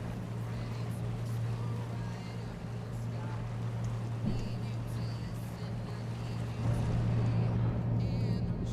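A boat motors out into the current with a steady low engine drone and a constant hum. Water and wind noise sit over it, and the engine swells slightly near the end.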